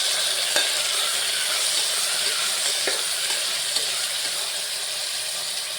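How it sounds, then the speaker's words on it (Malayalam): Garlic, curry leaves, shallots and ginger sautéing in hot oil, a continuous bright sizzle with a couple of faint stirring clicks, close and steady, without speech. "ഇനി വെളുത്തുള്ളി, കറിവേപ്പില, ചെറിയ ഉള്ളി, ഇഞ്ചി ഇതെല്ലാം ഇടാം. ഇത് നല്ലതുപോലെ വഴറ്റാം."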